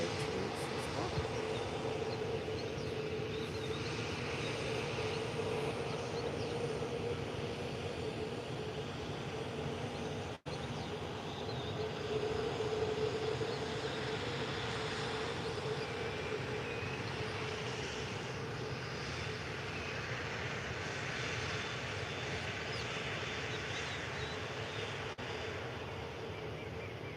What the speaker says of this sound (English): So now landing is a Ryanair 737-800 from Nottingham